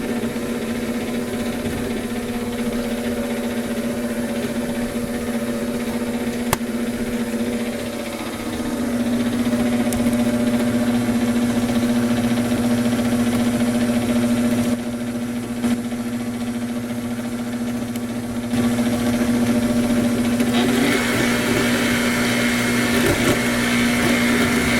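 An electric mixer whirring through applesauce and eggs for sweet potato dog treats, a loud, steady motor drone that shifts pitch and strength partway through and keeps running throughout.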